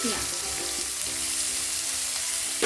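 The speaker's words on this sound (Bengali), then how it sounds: "পেঁয়াজটা ভালোভাবে কষিয়ে নেবো লাল করে একদম।" Chopped onions hit a pan of hot oil already fried with cumin and asafoetida, giving a dense, loud, steady sizzle close by.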